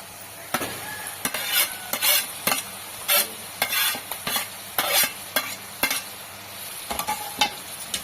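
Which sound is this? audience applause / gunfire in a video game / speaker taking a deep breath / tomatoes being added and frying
tomatoes being added and frying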